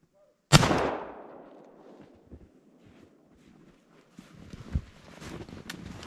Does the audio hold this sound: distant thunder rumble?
no